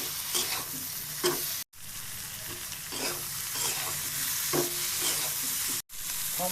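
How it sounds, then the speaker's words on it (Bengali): A spoonful of chili powder sizzles and is stirred steadily in hot oil while cooking a low-oil koi fish curry with potato and pointed gourd. The frying hiss is continuous and close, with short scraping stirs and two brief breaks. "আমি এই এক চামচ মতো মরচের গুঁড়ো দিয়ে দিলাম মরিচ আছে সাথে খুব ভালো খুব সুন্দর করে কষিয়ে নিচ্ছি"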